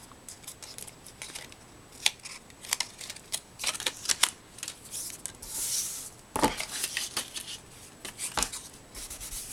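Scissors snip repeatedly through paper leaf shapes for a Christmas banner, a close, quiet series of crisp irregular cuts and small rustles, with no talking.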